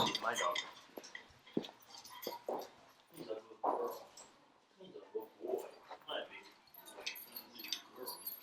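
A Basset Hound gives short barks and yips between whimpers at close range, alongside some rattling like jangling keys, while people talk over much of it.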